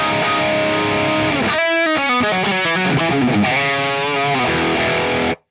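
Electric guitar chords played through the drive of an ML Lab Amped ML Plexi amp simulator, heavy distortion, thick and saturated, strummed steadily for several seconds before stopping abruptly.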